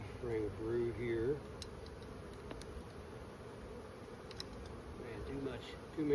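A dense swarm of honeybees from a big, overcrowded colony drones around an open hive while brood frames are inspected, the buzz steady and close, with a voice speaking briefly at the start and end.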